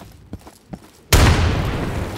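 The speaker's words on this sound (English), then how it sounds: "Yeah, throw a frag in there." A frag grenade explodes inside a dumpster in Insurgency: a few faint thumps, then one loud sudden blast that rumbles and rings on as it slowly fades.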